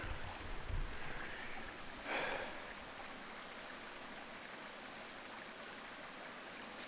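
Water runs outdoors in a calm setting with a soft, steady rushing hiss. It stays faint and continuous, with a few slightly louder swells early on and no voices.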